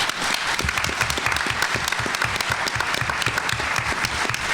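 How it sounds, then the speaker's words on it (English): Sustained audience applause fills the room at a panel event on women, violence and gun control, a dense, steady clatter of many hands clapping throughout with no talk over it. "Another round of applause"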